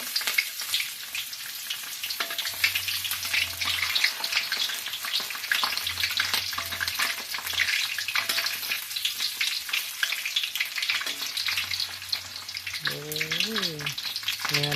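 Food sizzles steadily in hot oil, likely a Thai fried dish wrapped in rice paper instead of batter, with a bright continuous crackle and occasional low hum and brief voices in the background.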